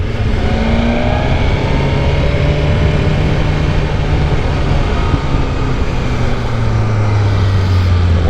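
A motorcycle engine drones loudly and steadily on a test ride, likely a 2021 BMW S1000RR or 2017 RT-S, with gear-like pitch sweeps rising and falling and continuous wind rush throughout.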